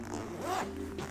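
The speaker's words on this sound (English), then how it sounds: "the zipper goes all the way around" A single zipper pulled open on a Mono FlyBy Ultra backpack, a short close rasping zip lasting under a second.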